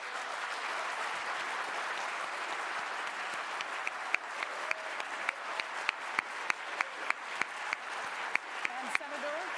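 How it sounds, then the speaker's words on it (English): Audience at a U.S. Senate debate at Pacific Lutheran University in Tacoma giving steady, moderately distant applause, with a few sharp louder claps standing out and a voice speaking briefly near the end. "thank you for that applause."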